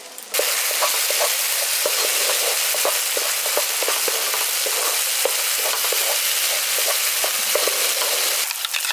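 Mustard paste frying lightly in a pan for sorshe pabda, a steady close sizzle broken by regular soft clicks of stirring, alone with no voices.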